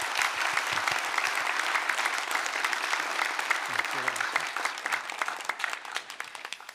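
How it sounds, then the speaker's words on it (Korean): A church congregation at a Presbyterian founding-anniversary Sunday service breaks into full, crowded applause that rolls on steadily, then thins into more scattered claps near the end, with a faint voice briefly underneath. "다시 한번 박수하겠습니다"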